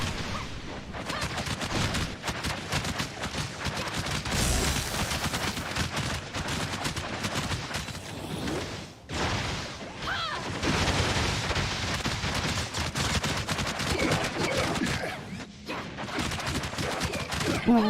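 Dense, sustained gunfire from Tower of Fantasy combat, rapid bursts and volleys running almost continuously at loud level, with brief dips, layered with explosive impacts and faint talk underneath.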